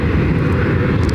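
A Starlux Airbus A350 airliner at Ontario airport in California, a loud, steady, broad engine roar with no talk over it.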